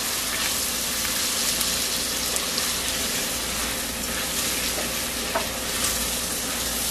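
Rice fries and is stirred in rendered pork fat, a constant close sizzle with occasional scraping clicks of the spoon against the pan, no speech.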